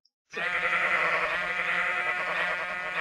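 Goats bleat in the Minecraft Twilight Forest mod, a sustained wavering call that starts abruptly after a short silence and holds loud and steady throughout.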